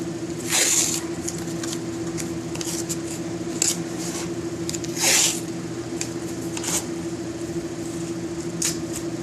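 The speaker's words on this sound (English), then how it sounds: "I'm just going to run another piece of painter's tape across it" Painter's tape is pulled from the roll and pressed across a woodworking miter glue-up, giving several short, sharp ripping bursts spaced a few seconds apart over a steady background hum.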